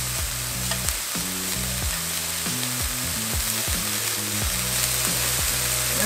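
Bellflower root (doraji) roasting in a pan over medium heat gives a steady, close sizzle and crackle that continues without a break, with some low stirring or scraping sounds underneath.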